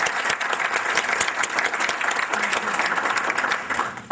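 An audience at a jazz concert honoring a living legend gives a sustained round of applause, dense and steady, with many hands clapping for about four seconds.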